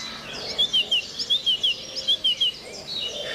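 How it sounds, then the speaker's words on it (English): Outdoors behind a house in Devon in the morning, a bird sings a clear series of short, high, evenly spaced chirped notes over a soft background of other distant birds, with no talk. "The beauty of birdsong is timeless."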